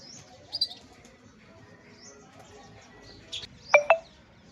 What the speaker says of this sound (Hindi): ये छोटी छोटी चिड़िया आपको दिखाई दे रही है ना